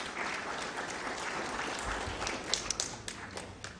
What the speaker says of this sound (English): Let's put our hands together one more time for our distinguished speakers.